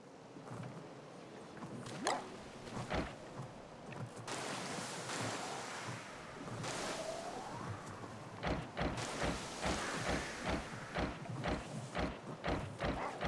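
Ocean waves rolling and washing in Don't Starve, a soft steady surf under repeated short clicking and switching sounds, fairly quiet throughout.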